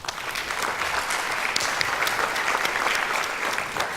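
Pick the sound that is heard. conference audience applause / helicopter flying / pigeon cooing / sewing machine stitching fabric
conference audience applause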